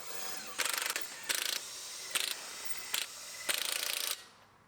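Ratcheting wrench or power tool spinning lug nuts while a temporary spare wheel is mounted on a Pontiac G8 GT, five short bursts of rapid clicking close by, separated by brief pauses, no speech.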